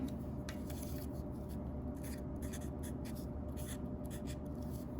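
Scissors cut steadily through cardboard for a craft attachment, a continuous close scraping and snipping with brief brighter crunches, under a low steady room hum and no talk.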